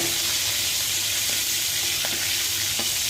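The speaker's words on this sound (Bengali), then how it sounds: "আর আমি কিন্তু ঘি আর তেল দিয়ে রোস্টটা ভেজে নিচ্ছি" Roast meat fries in ghee and oil with a loud, dense, unbroken sizzle close up, and a few faint clicks of stirring underneath.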